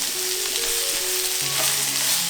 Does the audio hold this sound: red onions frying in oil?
yes